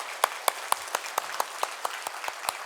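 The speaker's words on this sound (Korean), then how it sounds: "박수 좀 크게 하나님 앞에 영광 돌리시길 바랍니다." A church congregation at a Sunday service claps in a steady, evenly spaced rhythm, about four claps per second, fairly soft and unaccompanied by voices.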